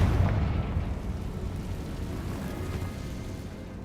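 Explosive Confringo spell blast in the video game Hogwarts Legacy, a loud low rumbling burst at the start that decays into a sustained booming roar, with no talking.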